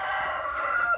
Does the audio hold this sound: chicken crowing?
yes